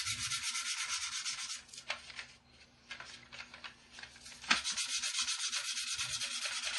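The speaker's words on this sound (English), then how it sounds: "we're coming in with the core side of the buffer" The coarse side of a buffer rubs scratches out of a plastic part on a 1/32 Trumpeter Corsair model kit. Close, quiet, rhythmic scrubbing strokes come in two bursts, separated by a short softer lull.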